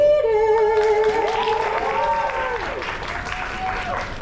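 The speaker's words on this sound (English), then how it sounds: "we're going to give an extra round of applause for his wonderful Costco sweater" A convention audience at Animate Miami 2025 applauds and cheers as voice actor Josh Keaton comes on stage, while a host talks loudly over the clapping in the opening seconds.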